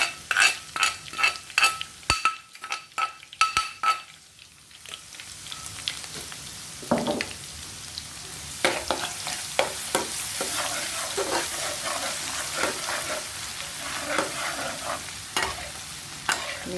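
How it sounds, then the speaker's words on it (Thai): Garlic frying in a pan of oil as a noodle topping, with steady sizzling bubbling and scraping stir strokes, a burst of sharp clattering stirs early on, then a continuous close hiss. "กระเทียมเจียวไว้ใส่ก๋วยเตี๋ยวเนี่ย น้ำมันน้อยน้ำมันเยอะแล้วแต่เราเลยนะ"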